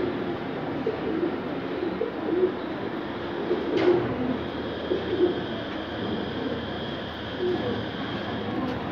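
Male pigeons cooing in a loft, low repeated coos close by over constant background noise, with no talking.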